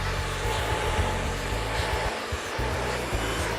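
A handheld hair dryer roars steadily during a smooth, straight blow-out, used to wrap-dry a client's hair around her head. It runs close and loud with slight wavering and a brief dip, and no talking is heard.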